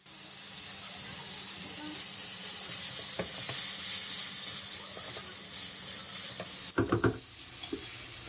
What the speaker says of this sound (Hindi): इसको हमने 5 मिनट के लिए भून लिया है।